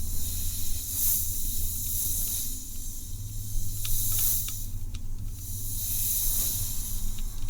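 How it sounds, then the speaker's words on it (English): Soft hissing air flows continuously while light, sparse taps land now and then, close and quiet. "Just a little bit of tapping, combined with just a little bit of the air sounds."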